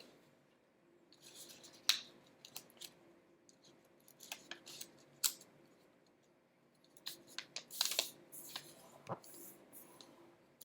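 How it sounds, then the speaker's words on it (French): Origami paper being creased and folded by hand into triangles, a series of quiet crisp crinkles and sharp snapping creases scattered irregularly at close range, with no talking. "Venir plier, prendre le coin ici et venir le plier"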